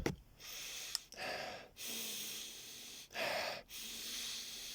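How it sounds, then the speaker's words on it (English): A series of long, breathy sniffs drawn in close to the microphone, with short pauses between them and no talking. "I'm gonna sniff it"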